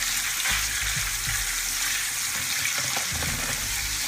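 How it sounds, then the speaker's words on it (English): Smoked pork jowls crisping in a pan like bacon for collard greens, giving a continuous close sizzle with spoon scrapes and soft clicks of stirring throughout. "add your smoked jowls to your pan and get it, nice and crispy like you're cooking bacon"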